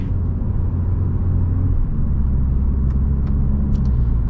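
A 2025 Mini Cooper Convertible with a BMW powertrain accelerates with a steady, loud engine rumble and low road noise, heard from inside the cabin.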